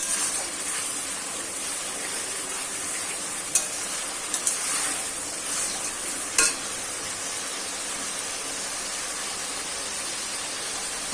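Onion paste for mutton kosha fries in a pan with a loud, continuous close-up sizzle, broken by a few brief sharp scrapes of a spatula, no voices.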